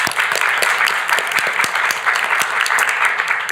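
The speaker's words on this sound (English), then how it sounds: "Yes, that's an applause line." A crowd at a House Republican press conference in the Capitol breaks into loud, dense applause that holds steady throughout.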